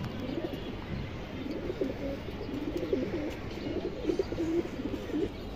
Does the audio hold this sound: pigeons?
yes